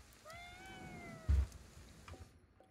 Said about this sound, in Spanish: Y pues este es un yokai, es un gato.